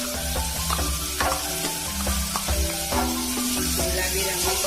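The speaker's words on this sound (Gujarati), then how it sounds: "ડુંગળીને આવી રીતે ક્રશ કરી લેવાની, તે વઘારમાં નાખવાની." Crushed onion sizzles in a hot tempering in a pan for chole, with a steady frying hiss and repeated stirring scrapes, close and continuous.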